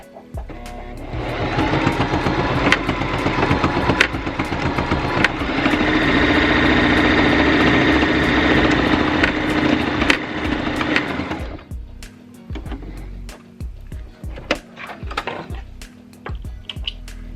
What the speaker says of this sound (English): tight enough that I have a nice straight line, and then start sewing